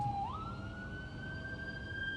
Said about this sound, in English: here comes an ambulance